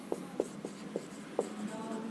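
Pen writing on paper during a class 12 maths lesson, a close series of short scratchy strokes in an uneven rhythm with quiet room tone between them.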